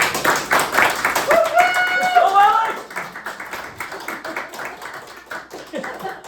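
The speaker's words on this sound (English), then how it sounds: "Now if we want Alex Kent to win, please give a round of applause" An audience at a game-show-style contest claps to vote for contestant Alex Kent, a dense wash of applause with a few whistles and cheers, while people talk over it.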